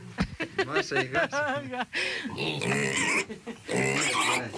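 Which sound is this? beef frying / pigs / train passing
pigs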